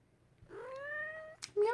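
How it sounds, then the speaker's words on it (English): A pet cat meows twice during a gentle yoga session, a long drawn-out mew followed by a shorter one, close and clear in a quiet room. "Meow, meow."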